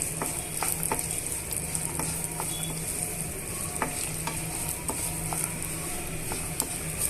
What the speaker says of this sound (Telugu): ఇవన్నీ బాగా వేగనివ్వాలండి